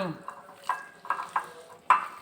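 Goat meat for satay is mixed by hand in a sweet soy sauce marinade, giving soft wet stirring close up, broken by a few sharp clinks of a utensil against the bowl.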